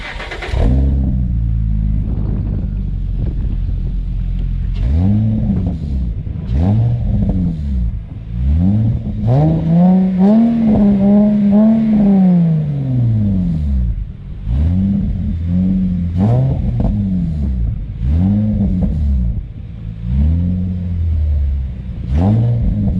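A 2006 Infiniti FX35 with a newly installed aftermarket exhaust, its engine idling with a deep rumble and blipped in repeated revs, including one longer sustained rev, loud and close.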